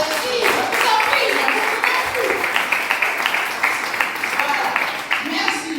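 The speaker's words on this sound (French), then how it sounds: "Alors, aimes-tu les applaudissements? Oui, alors allez-y, je vous en prie" A church congregation applauds in a steady, sustained wave of clapping at moderate distance, while a voice speaks over it at the start.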